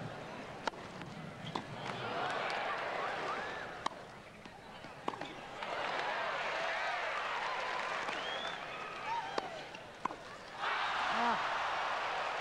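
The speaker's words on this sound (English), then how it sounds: "Listen to the crowd." Crowd at the 1989 US Open women's tennis match applauds in sustained, distant-sounding waves, with cheers swelling and fading, sharp ball or court knocks punctuating, and a commentator talking over it.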